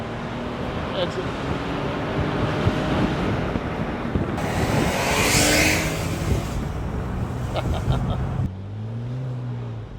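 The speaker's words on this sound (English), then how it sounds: "I'm going to give it a squirt, pop it down to third, and just feel what the turbos do." Porsche 911 Turbo 996 convertible with the top down accelerating hard in third gear, a rising engine and turbo roar mixed with heavy wind rush, with someone talking underneath.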